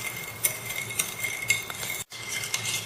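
Spoon stirring sugar into milk in a cup, steady rhythmic scraping and clinking at roughly half-second intervals, close and moderately quiet, with a brief dropout near the end.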